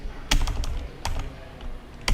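Keystrokes on a computer keyboard while writing references in a document: a few sharp, close clicks in small bursts separated by pauses, alone with no talk.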